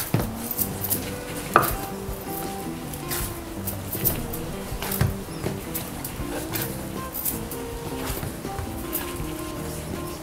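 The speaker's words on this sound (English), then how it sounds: "there's this repetitive motion of folding and kneading, which is really good for the dough" Dough for Tingmo being folded and kneaded by hand, giving soft repeated thumps and slaps in a steady rhythm, with a sharper knock now and then, close and moderately loud.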